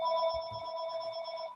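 A telephone rings in a room during a statistics lesson: a single steady electronic ring with a bright, even tone, heard alone for about a second and a half before cutting off.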